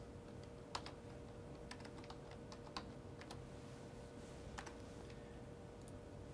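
Fingers tap on a computer keyboard while entering spreadsheet header text, producing a scattering of quiet, crisp key clicks in irregular bursts over a low background hum, with no voices.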